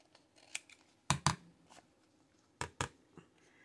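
Scissors trim vintage Christmas book pages up close, two crisp double-snip cuts a second and a half apart with a few lighter paper rustles between them.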